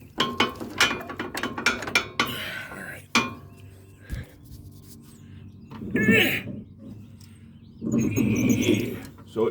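A hand crank turns over a 1927 Pirsch engine that has sat unstarted for 29 years, its cylinders soaked in mystery oil, giving irregular ratcheting, clanking mechanical bursts up close, with brief voice-like sounds mixed in.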